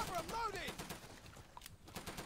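Suppressed bolt-action rifle with a rotating bolt and grip magazine in Day of Infamy, firing and being cycled: a few muffled shots and sharp mechanical clicks, close by, under someone talking.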